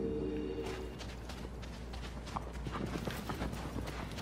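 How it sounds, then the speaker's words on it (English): Steady clip-clop of horse hooves at a brisk pace, close by, over a constant low background hum, from the video game Shadow of the Colossus. "Horse."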